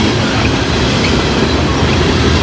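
A train rushes past close by, a loud steady roar of wheels and rail noise filling the whole span with no break and no voices.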